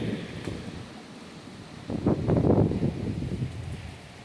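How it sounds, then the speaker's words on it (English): Strong gusty wind of 30 to 50 miles an hour with gusts up to 70 buffets an outdoor spot near a teepee, a steady roar swelling into a louder, rushing gust midway before easing slightly. "30 to 50 mile an hour wind with gusts up to 70"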